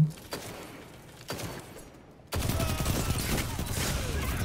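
A submachine gun fires in Destiny 2 as a few scattered shots, then a sustained, rapid burst of automatic fire that stays loud and close to the end.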